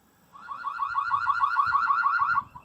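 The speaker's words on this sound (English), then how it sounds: "Yeah, the deer alarms are still working." An electronic deer deterrent alarm in a garden warbles in a rapid, repeating two-tone pattern for about two seconds, loud and steady, then cuts off abruptly.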